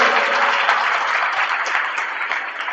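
Audience applause fills an Islamic scholar's talk at a coaching class, a dense, steady wash of many hands clapping that holds at an even level throughout, with no voices over it.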